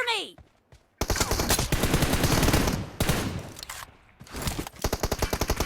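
Bursts of rapid automatic gunfire in the PUBG video game, loud sustained volleys broken by brief gaps and ending in a fast rattling string of shots, over faint background sound.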